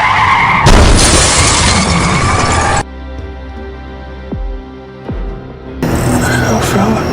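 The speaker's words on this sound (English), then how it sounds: "Russell accidentally hits a car that suddenly passes by." A loud burst of tire screech and crashing impact, followed by a lull and then another harsh smash, with a dramatic soundtrack underneath.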